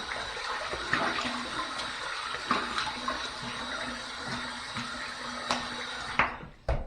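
Water runs steadily from a tap while a face is wetted before a shave, with splashes and handfuls of water breaking in, close by and continuous, ending in a few louder splashes.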